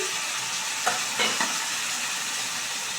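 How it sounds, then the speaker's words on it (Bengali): A pan of frying spices with chilli powder for a pumpkin and potato curry hisses steadily as a splash of water goes in, with a few brief sharper bursts of sizzle and stirring near the start. "যেহেতু এখানে মশলাটা দিয়েছি সেহেতু একটু জল আমি অ্যাড করছি"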